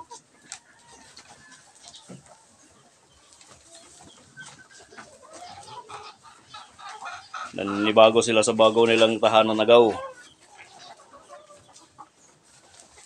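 A person speaks softly, then a burst of loud, close clucking and squawking from chickens on rice hull bedding rises for a couple of seconds before fading.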